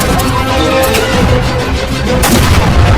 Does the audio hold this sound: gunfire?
yes